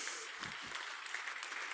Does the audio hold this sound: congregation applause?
yes